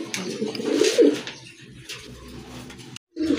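Pigeons kept for sale coo in soft low rounded calls, a close burst early on followed by quieter murmuring coos, with a brief gap near the end.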